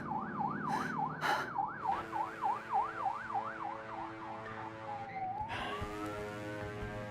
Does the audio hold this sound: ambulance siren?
yes